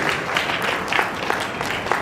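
Audience applause at an inaugural function in Kochi, a dense patter of many hands clapping steadily and fairly close throughout.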